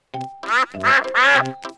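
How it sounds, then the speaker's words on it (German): Cartoon ducks in a German children's animated series quack loudly and close, a quick run of four or five nasal honks with harmonic tone and no talk over them. "Oh, da sind die Enten."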